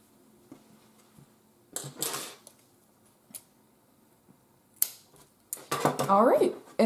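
Scissors snip through a crocheted yarn end on a handmade headband, giving a few sharp, close clicks and rustles spaced out over quiet room tone.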